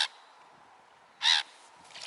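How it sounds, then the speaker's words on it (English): Black-headed gulls calling: a harsh squawk at the start, then a louder, longer cry partway through and a fainter one near the end, with quiet gaps between, heard alone without talk. "These, they're called black-headed gulls, actually."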